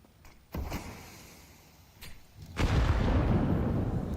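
A grenade blast in Counter-Strike during a pro match: a sharp burst and a second thud, then a louder, broad rumbling explosion that lingers to the end, with no voices on top.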